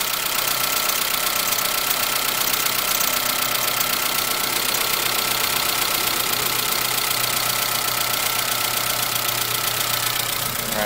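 A Mitsubishi Galant VR4 engine idles while warming up, with a loud, steady, close rumble and a constant rattling knock running unbroken throughout.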